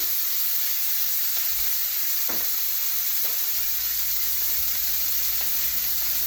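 Steak fries in a hot pan with a loud, steady sizzle and hiss that holds evenly throughout, up close, with a few faint clicks and knocks underneath.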